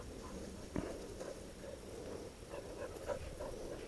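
Dogs moving about nearby with soft panting, patter and a faint whimper or two, low and steady, without any clear barking.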